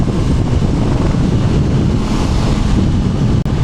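Loud, constant wind buffets the rider of a Honda CL500 471cc scrambler in fourth gear on the highway, a dense roaring rush that fills everything with no break except a brief dropout near the end.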